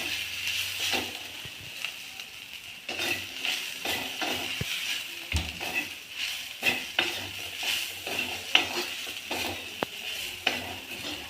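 Crushed peanuts go into a pan of vegetables being stirred: repeated scraping strokes of a spoon against the pan over a steady sizzle, close and fairly loud.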